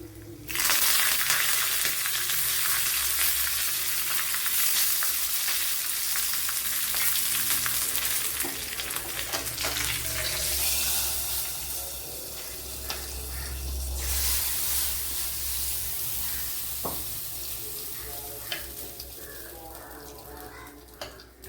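Mustard seeds, dried chillies and curry leaves fry in hot coconut oil with a steady, loud crackling sizzle that runs throughout, with occasional stirring scrapes and no talking.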